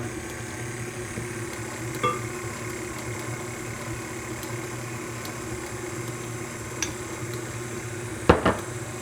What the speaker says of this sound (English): So now I'm going to put my mixer on low and add my eggs one at a time and my milk